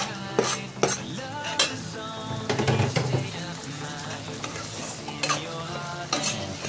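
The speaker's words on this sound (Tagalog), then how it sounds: "Ngayon naman, magigisa ako ng bawang sibuyas." Garlic and onion sautéing in a pan: a soft sizzle under repeated sharp spoon clinks and scrapes against the metal, with steady background music tones.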